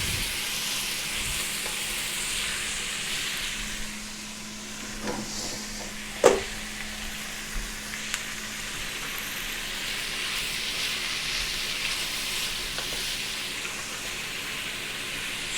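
Smoky bacon and chorizo frying in a pan, a steady even sizzle and hiss held at moderate level with a couple of faint clinks and no voices.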